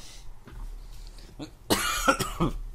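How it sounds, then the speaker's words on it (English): A few sharp coughs in quick succession follow some quiet shuffling, near and fairly loud. "That's a bit of a cough that you still have"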